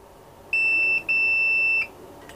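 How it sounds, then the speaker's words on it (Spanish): Two short, high electronic beeps in quick succession from a multimeter continuity test reading 0 ohms on an SMD capacitor circuit, the second longer, clear and close against a quiet background. "Escuchan el bip indicando los 0 ohmios."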